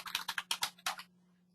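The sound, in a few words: typing an email on a computer keyboard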